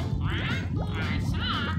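A duck in a top hat in the SpongeBob SquarePants Movie PC game lets out a run of loud, wavering quacks over a dense, busy game background.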